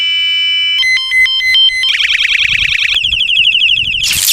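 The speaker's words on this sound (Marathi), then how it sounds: "सायकलीच्या हॉर्नचे 4 आवाज आहेत बघा, ते 4 आवाज तुम्हाला दाखवतो," An electronic bicycle horn cycles through several tones: a bright steady beep, rapid warbling alternations, a wailing siren-like sweep, then a harsh burst, loud and close.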